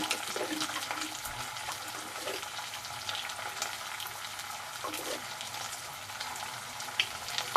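Pointed gourd and shrimp fry in a pan with turmeric, cumin powder and salt, giving a steady, close crackling sizzle with soft stirring scrapes throughout and no talking.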